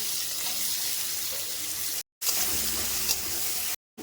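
Chopped onion sizzles in hot oil with whole garam masala, bay leaves and two dried red chillies, a steady close hiss of frying broken by two brief silent cuts.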